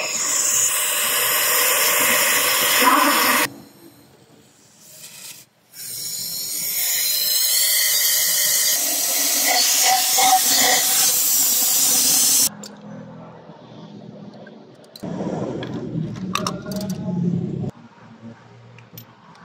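Compressed air blasts into a gasoline engine's spark plug hole to clear out pooled oil, giving loud, sustained hissing bursts with brief pauses between them, followed by quieter workshop handling noise.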